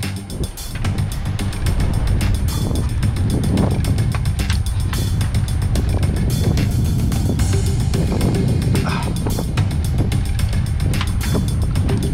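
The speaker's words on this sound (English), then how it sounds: "The green, the main halyard. Release the clutch." Rope clutch on a sailboat's main halyard being released, giving a steady run of ratcheting, clicking mechanical noise over a dense low rumble, loud and close for the whole stretch.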